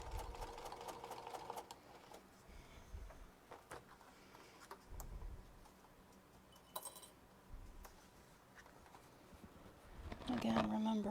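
A home sewing machine back stitches cotton fabric for a Sheera purse, running in short quiet bursts with small clinks between, and a person talks over it.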